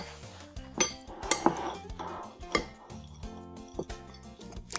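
A spoon stirs flaked coconut with other snack-ball ingredients in a bowl, giving repeated close clinks and scrapes against the bowl in an uneven rhythm with no talking.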